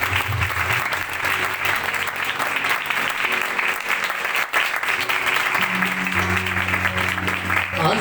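Audience at a live Christian praise and worship service applauds, a dense sustained clapping that fills the whole stretch at close range, with low musical tones from instruments playing beneath it.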